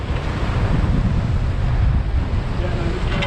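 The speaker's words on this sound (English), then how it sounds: "it's just the waves, the sets are hard" Ocean waves surge steadily while fishing for kingfish, with a continuous loud rush of surf and wind buffeting the microphone.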